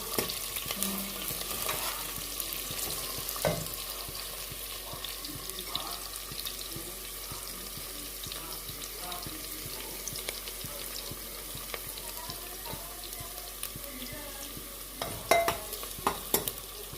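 Paste sizzling steadily in a pan for a goat meat curry, with scattered stirring scrapes and a burst of clattering near the end; no one speaks.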